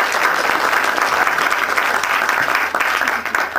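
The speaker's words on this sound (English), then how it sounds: "Please give him a round of applause" Audience applause at an astronomy club's Astronomy Day gathering, a loud, close, continuous wash of many hands clapping that stays steady throughout with no voices on top.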